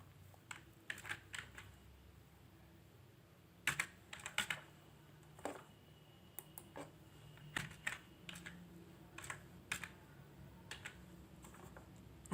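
Names are typed into a Google Form on a computer keyboard, quiet clicky keystrokes in short irregular bursts and pauses, close up with no talking.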